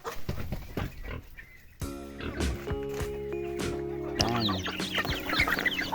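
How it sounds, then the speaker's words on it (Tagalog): Pigs grunt and squeal while chickens cluck close by during feeding on a mountain farm, a busy, steady farmyard din with a louder burst of squealing near the end. "kailangan natin magpakain naman natin mga alagang manok at mga alagang baboy"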